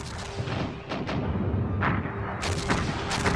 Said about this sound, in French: Même les zones arrière de la tête de pont deviennent la cible d'un bombardement continu et intense des Allemands.